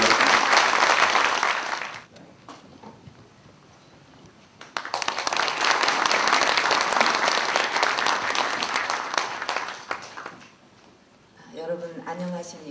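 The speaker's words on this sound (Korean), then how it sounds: "여러분 큰 박수 부탁드리겠습니다." An audience at a science and technology policy seminar gives loud sustained applause, fades to a quiet gap, then claps again in a long second burst before a speaker begins talking.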